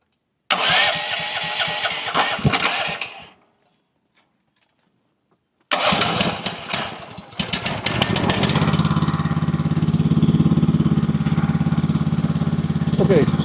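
A Boss Snowrator's engine tries to start, then goes quiet for a couple of seconds. It cranks again and catches, settling into a steady, loud, close running drone.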